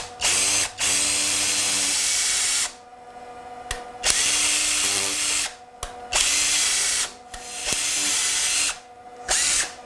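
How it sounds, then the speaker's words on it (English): A power drill bores seed meal out of a clogged oil press nozzle in several loud bursts of whining, with short gaps and sharp clicks between runs. "And so all you need to do for that is to simply drill it out."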